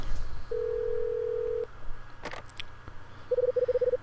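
Telephone dialing in the video game Last Window: a steady tone holds for about a second, then after a pause a quick run of short, clipped keypad beeps sounds clearly over a low background hum.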